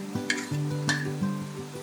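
Spice paste for a bitter gourd (karela) curry hits hot oil where chillies are frying, giving a continuous close sizzle broken by a few sharp stirring scrapes.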